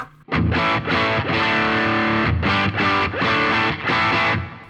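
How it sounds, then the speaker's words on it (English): A driven, distorted electric guitar plays sustained chords and riffs in a few bursts separated by short pauses, loud and close. "So there's my basic driven lead and rhythm tone"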